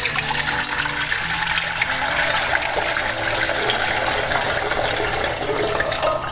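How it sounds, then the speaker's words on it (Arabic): Boiling water gushes into a cooking pot in a loud, continuous pour, splashing and filling without pause while rice is being cooked, with no speech. "والان حطينا الجدر، بنحط ماء مغلي"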